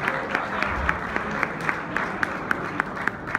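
A crowd applauds at an award ceremony at a governor's house for an Olympic gold medalist, with dense, continuous clapping from many hands and a regular, louder rhythmic clap cutting through close by.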